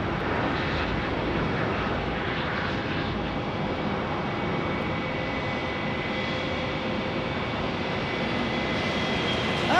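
A steady, loud jet roar from an Air France airliner at Phoenix Sky Harbor airport, sustained throughout as the plane moves nearby.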